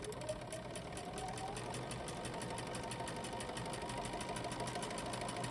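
A sewing machine stitching quilt fabric for a scrap quilt runs in a steady, fast, continuous whirring patter at close range, with no pauses.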